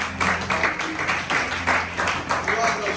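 A church congregation claps in a steady rhythm, a close, lively crowd beating time at a brisk regular pace with voices mixed in.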